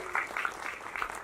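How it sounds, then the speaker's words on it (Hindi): Audience applause at the Sky India Awards, a brief burst of many hands clapping, close and continuous with uneven rhythm. "जोरदार तालियां हो जाए इन सब के लिए."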